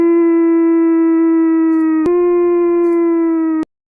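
A wolf's long, steady howl rings out clearly and alone, holding one pitch with rich overtones, briefly breaking near the middle before resuming and then cutting off abruptly.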